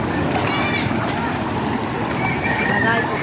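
Strong floodwater current rushing past a new bridge during a flood, a steady loud broadband roar throughout with people talking over it.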